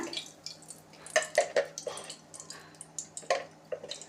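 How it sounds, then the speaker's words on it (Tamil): Sesame oil poured by the spoonful into a pan for a Tamil-style potato fry: soft, close drips and splashes in uneven bursts, with several brighter plops near the middle and no talking. "இதுக்கு வந்து ஒரு நாலு கரண்டி நல்லெண்ணெய் ஊற்றுறேன்"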